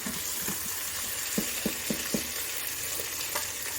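Meat frying in a Zaicon electric pressure cooker pot: a steady hiss of sizzling with a handful of soft, evenly spaced scrape and tap sounds from stirring, close and moderately quiet.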